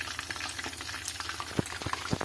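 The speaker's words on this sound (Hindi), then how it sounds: "ये देखें 10 से 15 मिनट हो गए हमारे चिकन को फ्राई होते हुए" Chicken deep-frying in oil over medium flame makes a close, busy bubbling sizzle with scattered pops and crackles, fairly quiet and continuous.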